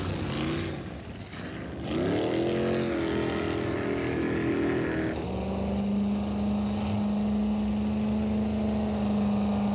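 Racing jetboats on the Payette River in Idaho, their engines roaring loudly and rising in pitch as they accelerate away on the downriver run, followed by a sustained steady drone.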